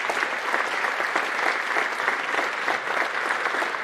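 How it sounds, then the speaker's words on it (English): An indoor crowd at a men's college basketball game applauds former coaches with steady, dense clapping that holds at an even level throughout, with no voices over it. "Let's give them a nice round of applause"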